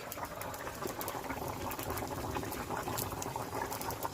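Fish curry made with small fish bubbling away in a pot on the stove, a steady close bubbling and simmering that runs unbroken throughout with no talk.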